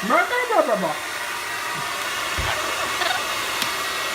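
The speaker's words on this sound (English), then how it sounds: "Nice warm hair dryer." A steady hair dryer blows with a continuous whooshing roar, with brief voices and rustling near the start over the constant airflow.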